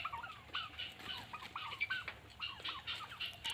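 Local chickens cluck and chatter steadily on a small poultry farm in Assam where turkeys are also kept, a busy, fairly quiet flock sound with repeated short calls and no talk.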